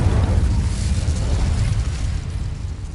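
An Incendio fire spell cast in Hogwarts Legacy, heard as a loud, sustained roaring burst of flame, rumbling and dense, fading slightly toward the end, with no talking.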